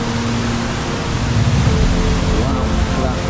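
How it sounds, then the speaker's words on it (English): Waterfall on a Yorkshire Dales walk, a loud, dense rush of falling water filling the scene without a break. "Few steps up, and then the waterfall's just there."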